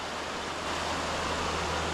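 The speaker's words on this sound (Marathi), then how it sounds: "धबधबा" A waterfall pours in a dense, constant hiss and rumble, loud and near, steady throughout with nobody talking.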